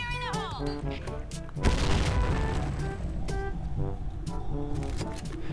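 Point Blank video game sounds with a burst of loud booming gunfire and crashes in the middle, surrounded by electronic musical tones and effects.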